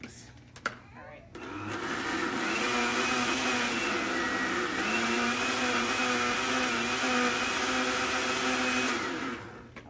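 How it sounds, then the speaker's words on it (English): A countertop blender whirs through cucumber juice, a steady high motor drone starting after a brief click and running loud and even for about eight seconds before winding down. "I'm going to put it back in and blend it a little more. Okay. I'm used to my Vitamix."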